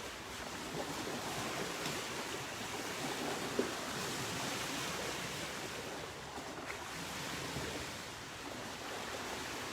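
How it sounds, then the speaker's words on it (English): Ocean waves wash and surf in a continuous soft rush, with wind noise blended in, at moderate distance and low level, with no voices. "Is it the sound of the water?"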